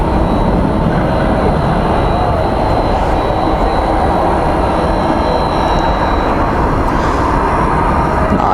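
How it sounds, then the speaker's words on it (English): DHL Boeing 767 operated by ABX Air at DFW airport at night, a steady, loud broadband jet engine roar with a faint high whine, continuous throughout. "it's a DHL 767 operated by ABX Air headed off to Cincinnati"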